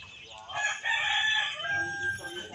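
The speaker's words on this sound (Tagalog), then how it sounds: "mangitlog na naman yung ating inahin guys" Loud, drawn-out fowl calls: a laying hen about to lay an egg clucks and cackles close by, with farmyard background noise underneath.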